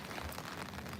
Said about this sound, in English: It's a rainy, overcast day here